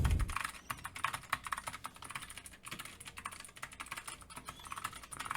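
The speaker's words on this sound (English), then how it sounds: "this keyboard is blue switches, so it's a little bit too loud" Rapid, clicky mechanical keyboard typing with blue switches, a busy stream of sharp keystrokes close up with no talking.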